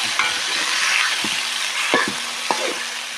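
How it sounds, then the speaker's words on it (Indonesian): Beef skin kikil fries with spices in a pan, a bright continuous sizzle broken by several sharp utensil clinks and stirring scrapes, fairly close and loud, no talking. "Nah, langsung digoreng sama bumbu."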